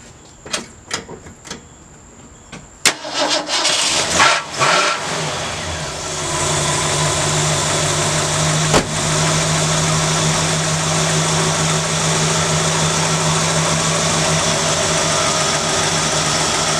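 A 1967 Ford Galaxie with a carbureted 289 V8 cold starts after a few clicks and cranking, catches with a roar, then settles into a loud, steady idle.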